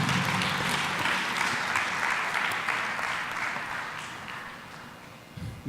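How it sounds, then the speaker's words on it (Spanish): Audience applause for a speaker on a university engineering panel, a steady roomful of clapping that gradually thins and fades toward the end. "Un aplauso, por favor"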